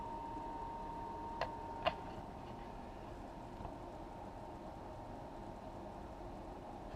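A motorhome furnace blower runs with a steady, quiet whoosh and hum, a couple of soft clicks standing out near the start.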